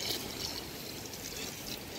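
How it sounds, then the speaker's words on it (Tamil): Water poured into a village-style fish curry masala cooking in oil, a steady trickling splash that runs unbroken and fairly close for the whole stretch, with no talk over it. "தண்ணி விட்டுக்கலாங்க."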